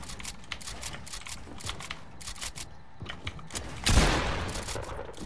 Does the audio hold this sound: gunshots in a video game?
yes